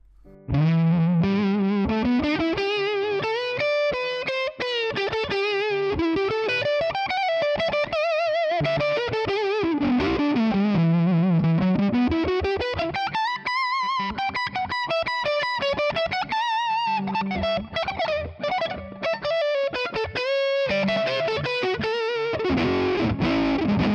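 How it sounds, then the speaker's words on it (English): Electric guitar on the neck pickup played through a Tonex One character amp model with reverb engaged, a continuous melodic line of sustained, singing notes and bends with effects-laden tone, loud and alone. "Let's engage reverb and let's try, why not, the neck pickup."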